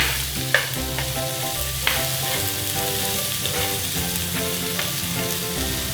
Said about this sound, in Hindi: प्याज मेरे फ्राई हो जाएंगे थोड़ा सा।